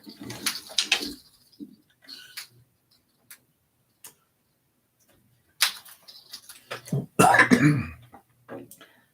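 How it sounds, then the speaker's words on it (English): A few sharp coughs break a quiet room, one early and a louder burst near the end, with scattered ticks and faint movement between them. "Excuse the cough."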